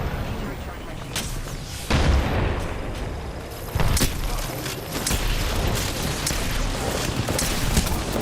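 A frag grenade explosion in a video game cuts through dense, loud combat noise, with sharp booming impacts at intervals over a constant rumble of gunfire and effects.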